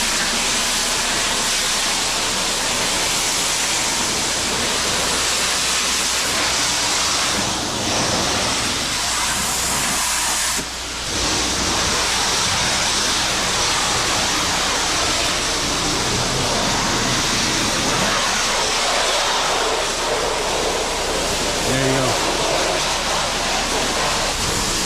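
Pressure washer spraying the siding of a house, a loud continuous hissing water jet close by that runs almost unbroken, with one brief dip midway.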